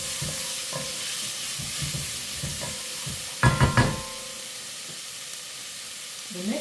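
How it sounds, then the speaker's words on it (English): Chopped onions sauté in a hot pan with a steady sizzle, stirred with a few soft scrapes and a short cluster of louder clanks from the utensil partway through. "saute the onions"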